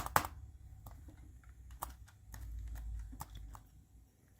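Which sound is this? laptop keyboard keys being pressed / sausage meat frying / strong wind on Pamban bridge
laptop keyboard keys being pressed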